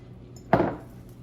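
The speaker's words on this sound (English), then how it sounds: "I'm gonna pack these jars with my onions" A single clattering knock of red onions being packed into a glass jar, one short bright impact rising out of a quiet kitchen and fading within a fraction of a second.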